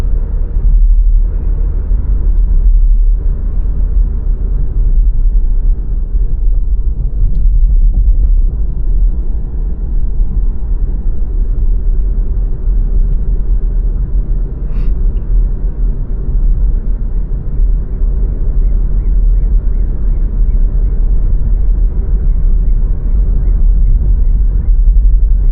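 A Skoda Octavia 1.4 TSI drives through light city traffic, its low steady engine and road rumble droning continuously from inside the car, with no talking.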